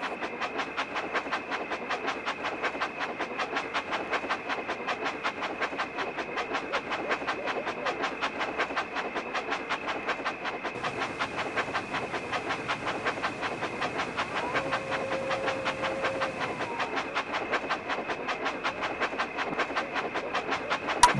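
A small Thomas & Friends toy train clatters steadily along its track with rapid, even clicking, running continuously with a brief higher whir midway.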